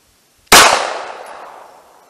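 A single sharp, loud .380 pistol shot with Hornady Critical Defense 90-grain ammunition at an outdoor range. A crisp crack is followed by a long fading echo that trails off over more than a second.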